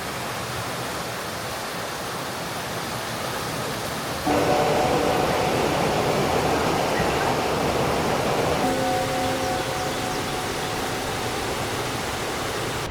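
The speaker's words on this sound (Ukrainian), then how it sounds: "Такий величезний водоспад." Large waterfall at Brandywine Falls, a steady broadband roar of falling water heard close and loud throughout, swelling slightly stronger partway through with no talking.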